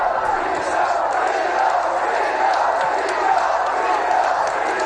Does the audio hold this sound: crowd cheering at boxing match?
yes